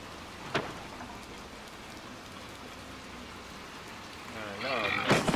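Steady rain in the horror video game Little Nightmares 2, a continuous hiss with a sharp crack early on and a louder burst at the end.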